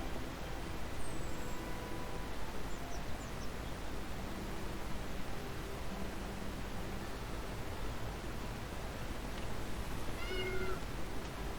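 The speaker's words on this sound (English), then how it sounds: "Oh, we have to feed the cat. Gotta feed the kitty." A cat meows in the video game World's Dawn, a couple of short, thin game-style mews over a steady hiss of background noise, with no talk.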